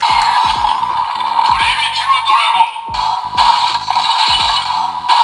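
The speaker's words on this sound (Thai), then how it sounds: "ก็จะวนแบบนี้ไปเรื่อยๆเนาะเป็นเสียงสแตนบายนั่นเองนะคะ" A looping standby sound effect from a DX Primitive Dragon toy transformation book repeats over and over, with bright synthetic tones and rhythmic pulses close up.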